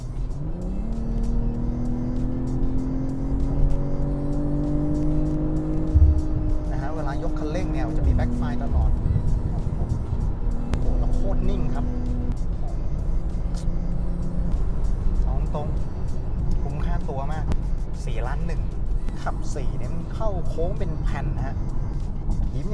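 BMW G20 M340i LCI driven in sport mode, engine rising through the revs with gear shifts, a steady close cabin drone of accelerating, while someone talks throughout.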